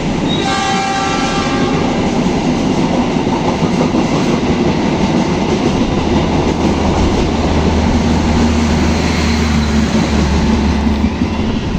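A train roars loudly through an Indonesian railway station, a horn sounding at the start, then a steady heavy rumble and rattle of cars rolling past.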